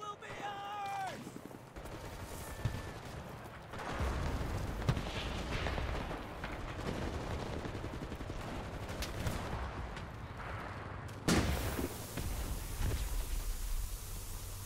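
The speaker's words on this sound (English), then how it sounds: "Artillery! Fire at the square!" Artillery barrage in the World War II shooter Enlisted, with loud booms and continuous battlefield gunfire rumbling through the whole stretch and a sharp blast near the end, while voices call out over the noise.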